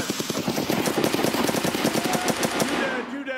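Rapid automatic gunfire from the Escape from Tarkov shooter game, a dense burst of close, loud shots in quick succession that trails off near the end.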